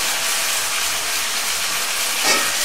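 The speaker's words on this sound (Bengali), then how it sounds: "আমার রুচি মতো আদা রসুন বাটা দিব" Ginger-garlic paste sizzles in hot oil for a potato dal, a brief, dense frying hiss with a small flare near the end.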